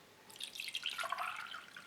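Orange isotonic drink pours into a glass with a light, close splashing trickle that builds over about two seconds, with no talking.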